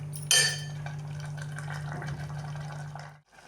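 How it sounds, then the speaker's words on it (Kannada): Water is poured into ground sambar masala, a short splashing gush with a faint clink of the vessel, then a softer running flow that stops abruptly. "ಇದಕ್ಕೆ ಸ್ವಲ್ಪ ನೀರು ಹಾಕೋಣ."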